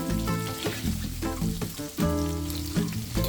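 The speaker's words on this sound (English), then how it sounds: "I'm adding in red pickled chili first to stir fry a couple seconds." Red pickled chili stir frying in hot oil in a pan, a loud continuous sizzle and crackle with bursts as the food is tossed, no voices.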